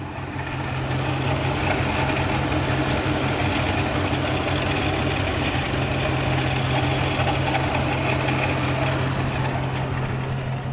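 A 2009 Ram 1500 with the Hemi engine idles with its hood open while a pulley rattles; the engine runs as a loud, steady drone with no pauses, and no voices.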